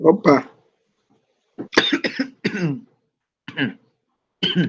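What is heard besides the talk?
cough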